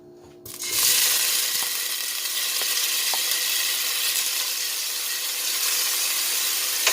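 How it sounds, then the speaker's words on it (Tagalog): Tomatoes dropped into hot oil for pork sinigang burst into loud, steady sizzling after a quiet start, the crackle continuing close and bright with faint stirring clicks. "mainit na yung ating mantika. Ilalagay na natin yung kamatis natin"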